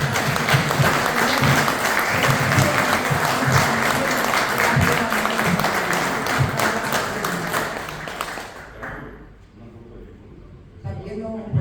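Loud, continuous applause from an audience at a cultural awards ceremony honouring a professor. It rolls steadily for about eight seconds, then fades out as a few scattered sounds and murmurs remain.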